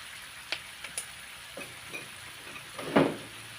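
Water poured into pad thai noodles frying in a pan brings a soft steady sizzle, a few light clinks, and a brief louder hiss near the end, with no talking.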